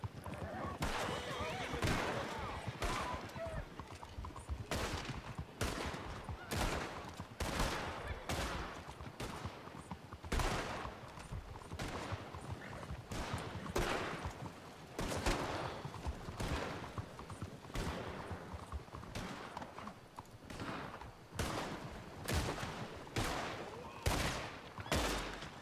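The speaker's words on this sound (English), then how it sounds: "This is some good shooting right here." Rapid bursts of video game gunfire repeat throughout, loud and steady, mixed with busy game effects, with a voice talking over it from time to time.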